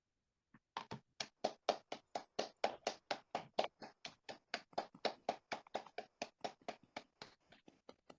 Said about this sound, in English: we'll clap our hands for 30 seconds and enjoy completing this wonderful group meditation.